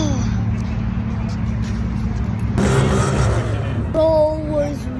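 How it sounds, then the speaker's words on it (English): A car engine at a busy car meet drones steadily amid other idling vehicles, then surges louder in a short rev near the middle and again toward the end, with background crowd noise. "Bro was revving that thing."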